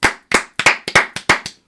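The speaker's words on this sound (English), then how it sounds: "Round of applause for production." A few people clap together in a short, irregular burst of about nine close, sharp hand claps over under two seconds, with no talk.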